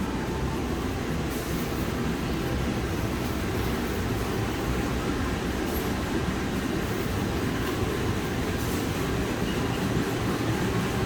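A CC201 diesel locomotive hauling the Gajahwong train idles at a station, giving a loud, steady engine rumble with a broad mechanical hum and no talking.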